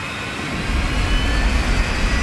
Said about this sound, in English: Afterburner's lit.